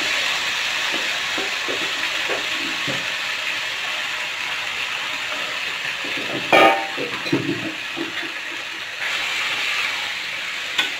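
Fish sizzles in hot oil with onions in a wok, a steady broad frying hiss running throughout, with a few louder crackling bursts and clatters partway through.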